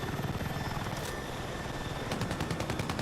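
Jets strafing with gunfire in Battlefield 6, a steady engine roar with a burst of rapid gunshots near the end, loud and continuous.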